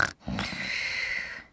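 A voice imitates a pig's grunt in a children's phonics story reading, one short nasal grunt-like call that rises and holds briefly, heard alone at moderate level.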